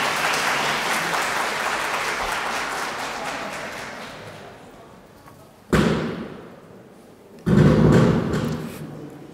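Wedding guests in a convention hall applaud warmly; the full clapping fades over several seconds and is cut by two loud, sudden thuds near the end.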